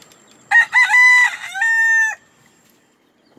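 A rooster, shown during its feather molt, gives one loud, close crow lasting about a second and a half, with a rising start and a long held final note, alone against a quiet background.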